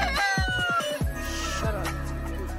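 Chickens cluck and squawk in a rapid burst of loud, close calls, then trail off into a single later squawk over a steady background hum, with no talking.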